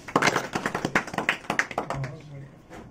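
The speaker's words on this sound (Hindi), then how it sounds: "वेरी गुड, ताली बजाओ भाई लड़के को" Group of people clapping for a boy in a Moradabad classroom setting, a quick run of sharp, close handclaps that fades out, with someone talking over it.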